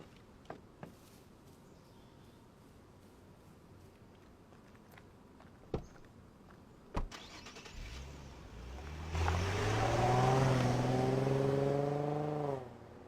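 A sports car starts up, revs with rising engine tones that climb through the gears, then pulls away and fades, after a few sharp knocks and thuds in a quiet scene.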